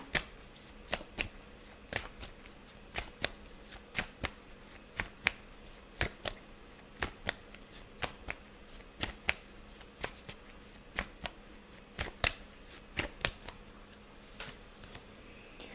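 Tarot cards are shuffled by hand in a long run of crisp, close riffling snaps and flicks, fairly regular and quiet, with no voices.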